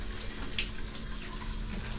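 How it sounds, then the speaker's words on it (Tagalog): Hot shower water running steadily in a campsite shower stall at Tanay Highlands, a continuous close splashing hiss with no voices. "Tingnan natin kung gumagana yung hot shower nila."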